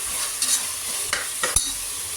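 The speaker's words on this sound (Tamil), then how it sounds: "இந்த வெங்காயம் எல்லாம் நல்லா வதங்கிடுச்சு, தக்காளியெல்லாம்." Onions and tomatoes sautéing in a pan for mutton biryani, with a steady low sizzle and a few sharp scrapes and clinks of a spoon stirring through the mixture.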